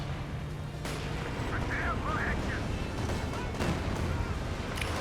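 Artillery fire in Company of Heroes 2 during a tournament match, deep booms and crashes layered over a dense battle rumble, with a couple of sharper impacts, beneath speech.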